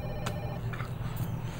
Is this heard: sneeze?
no